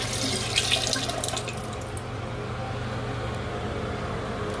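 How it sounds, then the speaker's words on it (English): Dirty water with animal hair and debris poured from the basin of a Rainbow SRX vacuum cleaner into a toilet, a steady close splashing and gushing pour that runs throughout and eases slightly toward the end. "I'm gonna dump the water out."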